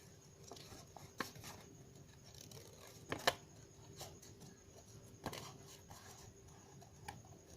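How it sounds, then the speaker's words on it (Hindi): Scissors cut out a paper design in quiet, scattered snips and crisp paper rustles, a few sharper cuts standing out against a faint background. "इस तरह से पूरे डिज़ाइन को हम काट लेते हैं।"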